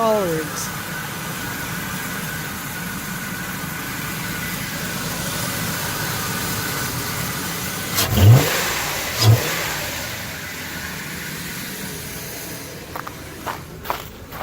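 1997 Ford Expedition Eddie Bauer Edition engine with a BCP Racing cold air intake, idling steadily with two sharp throttle blips, plus a few faint clicks and a voice in the background.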